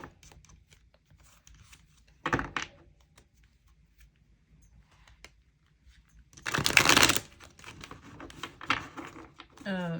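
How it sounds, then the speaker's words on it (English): Tarot cards are shuffled in two brisk riffles, a short burst early and a longer flurry later, close by against a quiet room. "I'm just shuffling this other deck."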